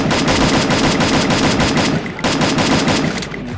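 M4A1 rifle in a shooter video game firing loud, rapid automatic bursts up close, two sustained strings of shots separated by a brief pause, no talking.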